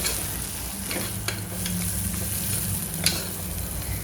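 Chicken soup ingredients fry in a pan with a steady, close sizzle, broken by a few sharp clinks and scrapes of stirring, with no voices.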